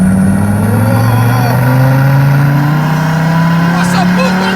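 Renault Twingo Cup race car accelerating hard at full throttle, a loud steady engine drone climbing in pitch throughout, with voices talking over it inside the cabin.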